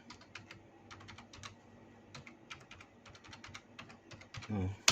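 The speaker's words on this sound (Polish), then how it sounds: "słyszycie długie hasło." A password is typed on a computer keyboard in quick, irregular bursts of close, light key clicks, with a louder thump at the end.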